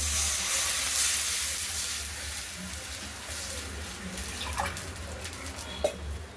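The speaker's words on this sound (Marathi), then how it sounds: "आता याच्यामध्ये पाणी घालून आदन टाकून." Water poured into a hot pan of turmeric-fried tomatoes, a loud rushing hiss at first that gradually settles into softer bubbling sizzle, punctuated by a few utensil clinks toward the end.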